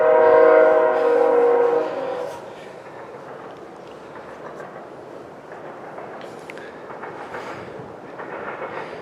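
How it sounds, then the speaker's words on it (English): A train passes close by, its loud sustained horn blaring for about two seconds before giving way to the steady rumble and clatter of the cars rolling past. "Oh my gosh, train."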